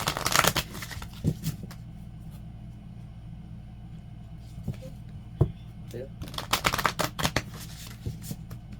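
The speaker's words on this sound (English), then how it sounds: "Two more shuffles and then we'll cut the deck." A tarot card deck is shuffled in close bursts of crisp riffling and flicking, with a quiet lull in between while a low rumble runs underneath and a voice speaks briefly.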